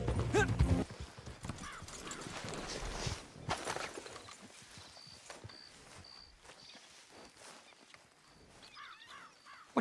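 Horses shift about in the stables of a manor in Red Dead Redemption 2, hooves clip-clopping in uneven bursts, with a faint whinny and soft background chirps.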